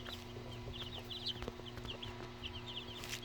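Young Brahma and Silkie chicks around eleven days old give repeated high, thin peeping chirps in short bursts, fairly faint, over a low steady background hum.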